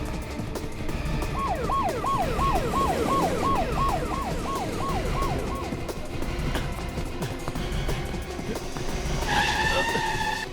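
Siren wails in a rapid up-and-down pattern over steady traffic roar as a car pulls away fast in a police chase, the siren fading after several seconds and busy street noise continuing.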